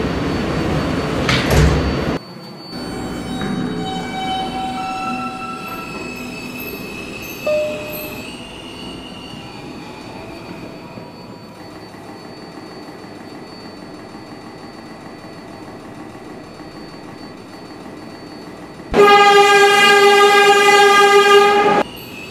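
A subway shuttle train runs in a Roblox video game. The car rumbles along, its wheels squeal and pitch tones shift, and a loud sustained horn-like tone sounds near the end.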